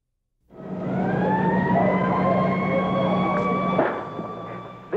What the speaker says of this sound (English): The sirens have not stopped screaming since we arrived on the university campus.